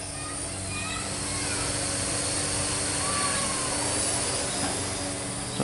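A Parrot AR.Drone 2.0 quadcopter keeps up a steady, fairly loud whirring buzz of its small rotors as it flies on after a backflip, the drone noise continuous throughout.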